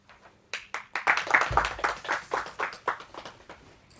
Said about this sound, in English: Let us welcome Sana with a great round of applause.